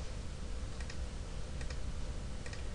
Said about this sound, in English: you're going to type x squared minus 4